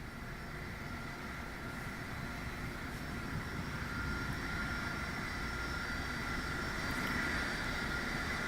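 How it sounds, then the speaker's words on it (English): A Boeing 747 Shuttle Carrier Aircraft carrying Space Shuttle Endeavour flies over Florida's Space Coast near Kennedy Space Center, producing a steady, unbroken jet roar that swells slightly louder toward the end. "show off the shuttle carrier aircraft and Space Shuttle Endeavour one last time for the workforce and residents here of the Space Coast"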